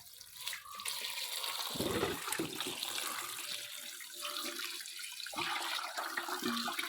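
Tap water runs steadily for several seconds in a Kerala home kitchen while bean leaves are washed in a basket, a continuous broadband splash with small shifts as the leaves are moved under the stream.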